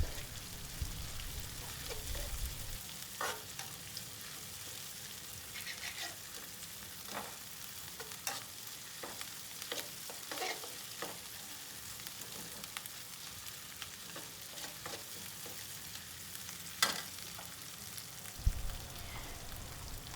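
Garlic and paprika fry in a pan while being stirred, a faint, steady sizzle with scattered soft clicks and scrapes from the spoon, recorded close and without talk.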